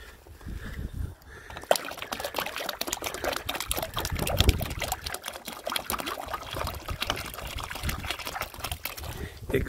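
Water poured into a 5 gallon bucket from a container holding about 1.8 liters, a steady close splashing and trickling pour that runs for nearly ten seconds.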